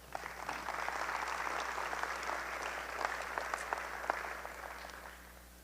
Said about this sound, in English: Let's give a round of applause for growth.